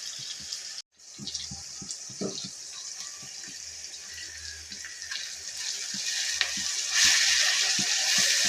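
Garlic, ginger, tomato, onion and curry leaves sauté in a pan for chicken peratt, giving a continuous close sizzle with scattered pops and stirring scrapes that grows louder toward the end.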